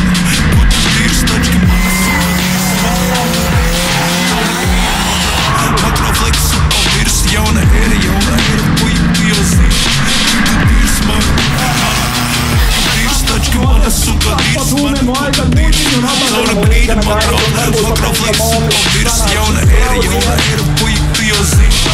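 Competition car burnout with a hard-revved engine roaring continuously at high volume and tires screeching throughout, loud and sustained from start to finish.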